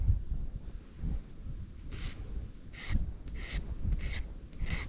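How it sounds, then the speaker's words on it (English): A hook sharpener or file rasps against a fishing hook in a few short, scratchy strokes, close and fairly quiet, with intermittent breaks between passes over low rumbling background noise. "Knew I needed to sharpen my hooks."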